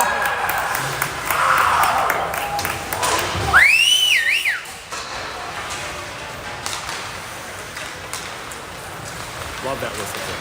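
A rising, warbling whistle sweeps upward and wavers for about a second, standing out over a noisy background with people talking nearby at an 18U sports game.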